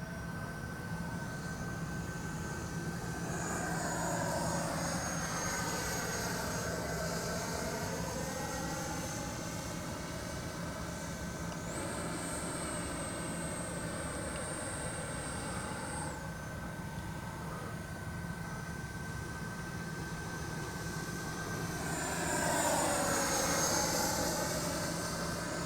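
A FlyFans L-39 Black Diamond jet-powered RC model plane in flight, its turbine whine rising and fading as it makes passes overhead, with a steady high tone running underneath and no talking.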